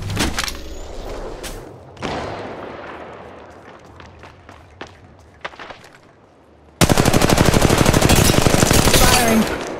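Automatic weapon fire in the mobile battle royale Apex Legends Mobile, played as Bangalore: rapid bursts and scattered single shots, then a loud sustained stream of fast shots near the end, with faint game voice lines underneath.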